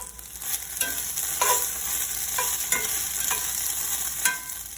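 Tofu frying in a pan, a close steady sizzle with intermittent scraping and stirring clinks from a utensil, no talk.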